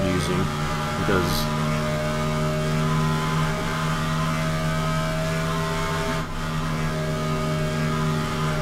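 A race car engine in the NASCAR Racing 2003 simulator drones steadily at constant revs with layered tonal harmonics, a continuous loud hum with a brief shift near the start.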